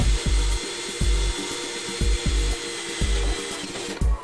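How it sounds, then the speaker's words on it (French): A power drill fitted with a hole saw bites into material with a grinding whir, pulsing in a steady rhythm of about one surge per half second. "On va utiliser pour percer ces trous une scie cloche."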